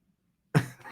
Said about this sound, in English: I'm so sorry you have to listen to me cough.